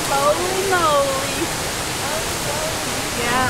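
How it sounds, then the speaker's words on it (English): A waterfall on Oil Camp Creek in the Mountain Bridge Wilderness roars in a constant broadband rush along a hiking trail, while a voice speaks briefly over it near the start. "look at the waterfall"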